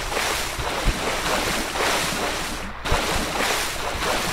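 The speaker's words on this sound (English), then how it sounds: "Can they hear the splashing I'm making here?" Water splashing in a hot spring in the video game Persona 3 FES, a steady, dense rushing wash of water that carries on without pause, with a couple of brief soft thumps partway through.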